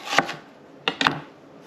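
Knife chopping onions on a board, three quick sharp cuts, one alone and then a close pair, near and fairly quiet.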